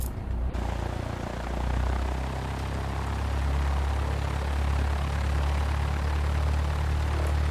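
Cessna 172SP piston engine and propeller in X-Plane 11, a steady low droning hum while taxiing, constant and close after a brief click at the start.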